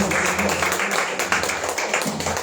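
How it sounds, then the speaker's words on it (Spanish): A congregation at a Spanish-language evangelical church service breaks into applause, a dense, steady wash of clapping that fills the room for a couple of seconds. "Dale un fuerte aplauso al Señor"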